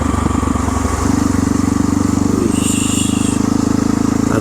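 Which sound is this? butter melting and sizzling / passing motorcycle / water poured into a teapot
passing motorcycle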